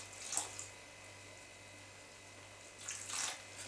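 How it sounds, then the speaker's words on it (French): Lukewarm water trickles from a tap and is poured into flour and salt for panzerotti dough, two short splashy bursts near the start and end with quiet hiss between. "petit à petit, vous allez rajouter l'eau"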